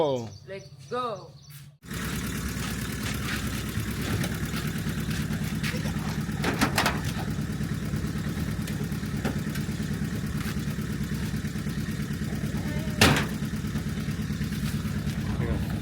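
A motorcycle idles near a school van, its steady low engine rumble running throughout after a brief opening of speech, with occasional clicks and a sharp knock partway through.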